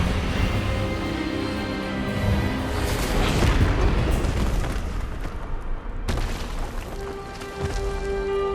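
An Expelliarmus spell blast in Hogwarts Legacy, a loud, sustained booming surge with crackling bursts that swells and then cuts off abruptly, followed by a lingering low rumble.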